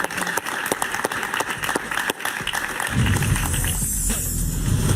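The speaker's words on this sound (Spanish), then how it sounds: "Un gran aplauso para Soledad Cedero." A talk-show studio audience claps for guest Soledad Cedro, a few seconds of brisk dense applause that gives way to loud music swelling in.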